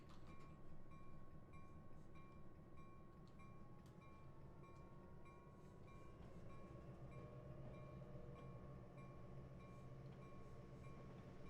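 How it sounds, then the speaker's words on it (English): A video game train rumbles past nearby at Marias Pass with steady rolling noise, clanking cars and a sustained high mechanical whine, continuous for several seconds. "Train going by."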